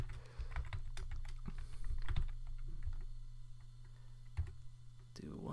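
Computer keyboard typing while code is written for a Sprite Kit role-playing game, a run of quick, uneven key clicks at close range over a low steady background hum.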